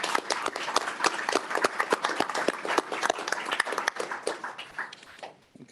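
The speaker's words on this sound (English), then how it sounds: "let's do a big round of applause for all of our new council members" Attendees at a board of directors meeting clap for newly seated council members, sharp individual claps forming a lively patter that thins out and fades in the final second.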